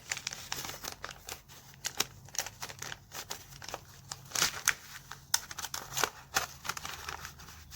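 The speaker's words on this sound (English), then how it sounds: "packaging tape, I really do like it a lot more than the clear tape" Paper packaging tape is handled while plants are packed, a continuous close run of crinkling, rustling and sharp tearing crackles with no speech.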